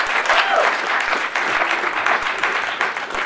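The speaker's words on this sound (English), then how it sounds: "If you'd like to give a round of applause for both the candidates for participating" A student audience at a campus government debate gives a full round of applause for the candidates, dense and even clapping with faint crowd murmur and a few sharper claps standing out.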